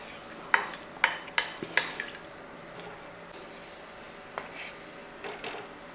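Rice being stirred in a pot of water for lemon rice: a quick series of four or five sharp scraping clacks from the spoon, then a quieter pause and a few softer taps, close and without talking.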